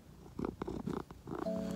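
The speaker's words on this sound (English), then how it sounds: "Listen to him purring." A cat purrs up close, a soft rhythmic rumble with a few brief bumps and rustles.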